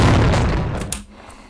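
A single heavy shotgun blast from the Max Payne 2 game, booming loud and close at the start, then trailing off into a fading rumble with a brief sharp click near the end.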